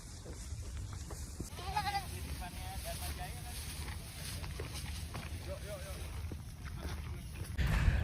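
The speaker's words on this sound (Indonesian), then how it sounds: "bersama kambing-kambing." Goats bleat in short, faint wavering calls outdoors at Ancol near the Formula E site, with someone talking over them and wind in the background.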